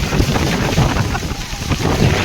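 Strong wind buffets the microphone outdoors on a trip in Chikkamagaluru, a loud, continuous rumbling roar with no break.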